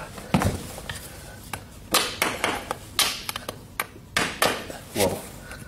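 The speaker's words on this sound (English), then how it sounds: "we're using a nylon hammer that FPD or Kirkhart sells" A nylon hammer taps horseshoe nail clinches on a horse's hoof in short clustered bursts, sharp close knocks in an irregular rhythm with brief pauses between groups.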